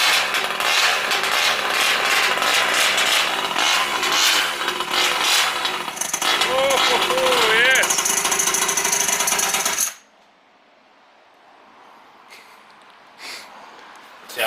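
Loud, buzzing small engine of an RC car with a Primal RC Raminator TMR performance engine revving harshly for several seconds on its first start, then cutting out abruptly, leaving quiet background noise with a few faint sounds.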